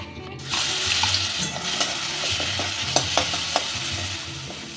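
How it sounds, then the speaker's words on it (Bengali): Onions sizzling and frying in a pan for an egg and cauliflower curry, with a spoon stirring and scraping through them in steady strokes, close and continuous, with a few sharp clinks against the pan. "পেঁয়াজ ভাজার খুব সুন্দর গন্ধ বেরিয়ে গেছে ভাজা ভাজা হয়ে গেছে"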